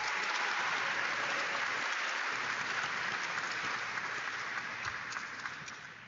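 Audience applause at a Scotia-Glenville 2025 high school graduation ceremony, a steady dense wash of many hands clapping that holds for several seconds and tapers slightly at the end, with no talk over it.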